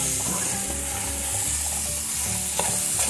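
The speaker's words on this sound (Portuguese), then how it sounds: "Esse quiabinho eu faço direto aqui. Ele fica bem fritinho, sequinho." Okra frying dry in a hot pan while being stirred, a continuous loud sizzle with scraping stir strokes running throughout, no talking.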